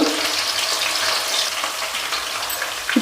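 Thinly sliced garlic frying in a pan for a Rayalaseema-style village curry gives a steady, close, bright sizzle that holds through the whole stretch with no talk.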